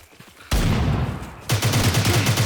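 A grenade goes off in Stalcraft X, a loud sudden blast that fills the scene, followed about a second later by a second heavy burst with a rumbling, crackling tail.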